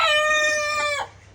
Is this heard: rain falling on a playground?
no